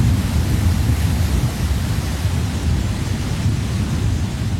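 Heavy wet-season rain roars in a dense, continuous wash, with a deep rumble of thunder folded into the steady downpour, loud and unbroken throughout.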